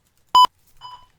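Short electronic countdown beeps from a live show's broadcast cue, a loud clear tone followed by a fainter, thinner second beep, alone with no talk.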